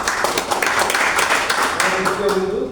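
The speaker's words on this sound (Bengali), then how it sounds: "ওনাদের হাত তালি হবে" Audience applause greets a speaker at a gathering, many hands clapping in a dense, steady patter throughout, close and fairly loud, with some voices mixed in underneath.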